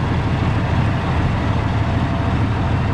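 A truck engine with a newly fitted exhaust pipe idles steadily, a deep, even low rumble that holds at constant loudness throughout with no voices.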